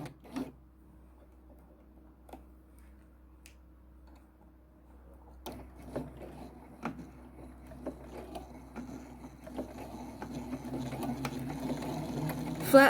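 A sewing machine stitches along the folded edge of a flat felled seam, starting with quiet ticks and a low hum, then building into a faint, steady mechanical whir with rapid ticking toward the end.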